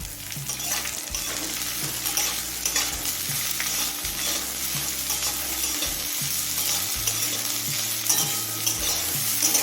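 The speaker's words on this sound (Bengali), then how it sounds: "এবার দিচ্ছি কুচিয়ে নেওয়া একটা বড় সাইজের পেঁয়াজ" Chopped large onion frying in hot oil with nigella seeds for a red spinach bharta: a steady, close, continuous sizzle with occasional stirring scrapes throughout, no voices.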